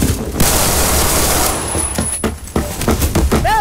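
Rapid, loud pistol gunfire in Roblox, dense bursts of shots blending together with a short gap near the end, a voice briefly heard amid the shooting.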